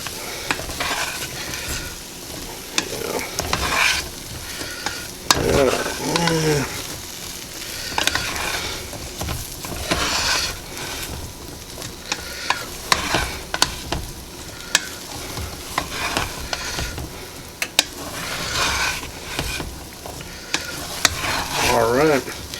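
Peas and onions being stirred in a pan: repeated scraping and clicking strokes of a utensil against the pan over a steady frying sizzle, with brief speech in between.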